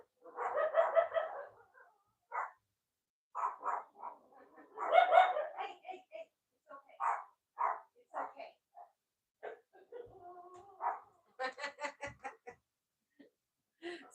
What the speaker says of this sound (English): Somebody's walking their dogs down their sidewalk.